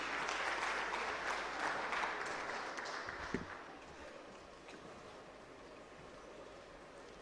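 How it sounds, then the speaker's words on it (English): Audience applause at a technology conference keynote as an AWS customer solutions head takes the stage, a dense roar of clapping that gradually tapers, with a brief thump midway. "A round of applause for him as he takes on the stage."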